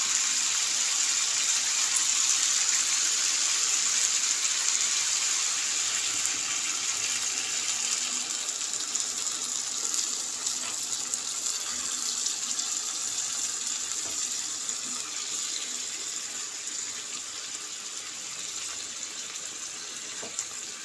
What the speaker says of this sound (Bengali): এবার আমি এতে জল অ্যাড করব,